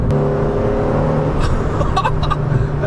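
A car fitted with Newman cams and a custom Dreamscience remap accelerates hard after a downshift, engine note rising loud and close from a steady drone into a building rev.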